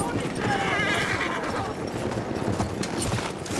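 A horse neighs near the start amid busy clattering hoofbeats and dense battle noise that continues throughout, in the video game Battlefield 1.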